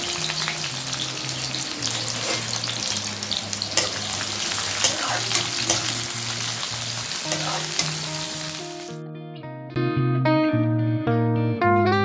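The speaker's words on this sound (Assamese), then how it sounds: "পেটু ভাজি অকণমান ভাতৰ লগত ফ্ৰাই কৰিলোঁ" Fish and rice fry in a pan in a home kitchen, a steady close sizzle that stops abruptly near the end as music takes over.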